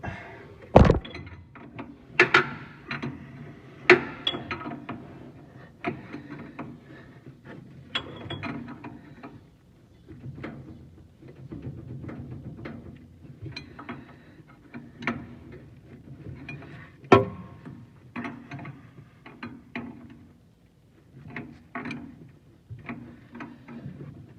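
Tools tightening a part back up on a race car in a shop, with scattered clicks, ratcheting and metallic knocks at irregular intervals, fairly close and moderately loud.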